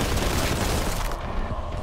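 A bolt gun in a classic-style first-person shooter fires in a rapid, dense volley of loud shots that runs without a break before tapering off.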